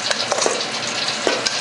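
Tofu fries tossed in a hot bowl fresh from the oven give a steady crackling sizzle, broken by a few sharp scraping clicks as they tumble against the sides, close and with no voices.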